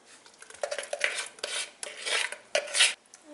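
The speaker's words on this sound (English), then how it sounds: "So we're going to go ahead and mix this together." A spoon or whisk stirs and scrapes against a bowl while cake batter is mixed with vanilla extract. The clinks and scrapes come close and uneven, in short bursts, with no talk.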